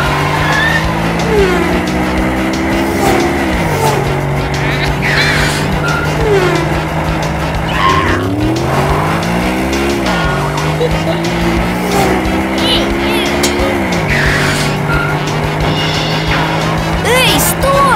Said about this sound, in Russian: Гонка траков! Это круто!